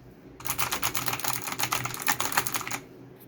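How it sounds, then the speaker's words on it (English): Rapid clattering keyboard clicks, typed in quick irregular bursts for a few seconds, close and fairly quiet, with no talking. "the clicks that you get from this keyboard are really satisfying."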